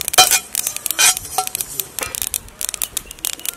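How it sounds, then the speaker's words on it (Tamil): Sesame seeds dry-roasting in a hot pan without oil give off scattered, sharp little pops and crackles in quick irregular bursts, close by and moderately quiet, with occasional scraping of a stirring utensil. "பாருங்கள் எள்ளு நல்லா பொரிஞ்சிடுச்சு"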